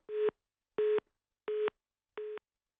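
A telephone line tone after a cut-off call, four identical short beeps at an even, steady pace, clear and isolated against silence.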